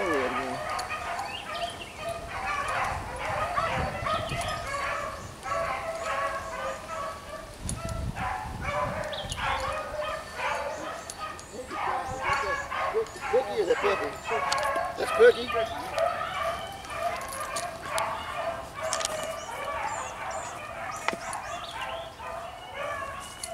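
Hounds running a trail in Terrell, Texas, bay and yip in a steady chorus from a middle distance. The barking continues throughout, and people talk faintly over it at times.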